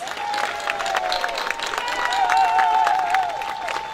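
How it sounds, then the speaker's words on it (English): Applause from the audience for the newly installed mayor at his installation ceremony in North Miami, a steady crowd clapping with some cheering that fills the whole stretch, while a sustained tone runs beneath it. "Please give him a round of applause."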